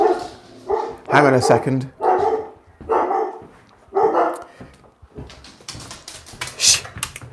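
Dogs barking next door, several loud repeated barks in irregular bursts that overlap with someone talking nearby.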